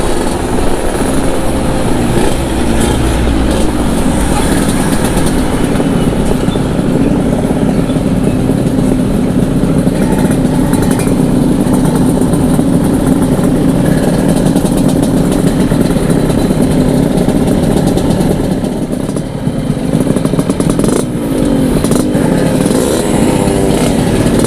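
A motorcycle with an aftermarket exhaust runs loud and close, a steady, rough throbbing drone that holds for the whole stretch with slight swells and dips.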